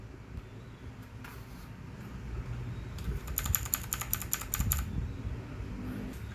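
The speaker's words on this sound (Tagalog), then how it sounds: "Ito na yung ating mechanical keyboard." A Machenike K7 mechanical keyboard, Bluetooth and wired, 87 keys with RGB lighting, clicks under fast typing: scattered keystrokes first, then a dense burst of crisp clacks, close up with no talk.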